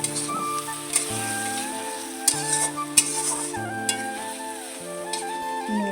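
Tomato and spices sauté in a pan while a spoon stirs them, making scattered scraping clicks over a soft sizzle, with tonal background music running throughout.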